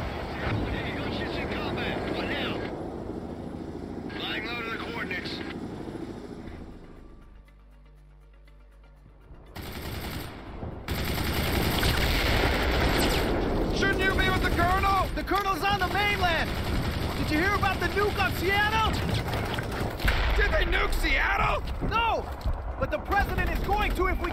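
Missile launchers fire together in the World In Conflict strategy game during an island assault, with loud sustained blasts and roaring rushes after a brief quieter lull, the barrage staying dense and close.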